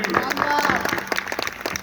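An audience at a Republic Day celebration at a Lucknow training institute applauds in a brief, lively burst of many hands clapping, with voices audible underneath.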